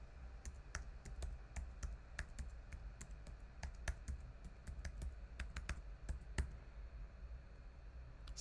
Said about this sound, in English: type slowly to ensure that you type the password correctly